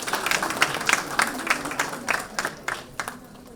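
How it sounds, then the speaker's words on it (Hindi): Scattered audience clapping welcoming guests onto the stage at an award event, uneven bursts of hand claps that build slightly and then thin out, moderately close with no voices. "जोरदार तालियों से हम उनका स्वागत करेंगे।"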